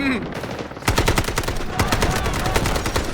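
AK rifle gunfire in the shooter game Delta Force, a loud rapid automatic burst of closely spaced shots that starts after a brief quieter moment and keeps hammering steadily to the end.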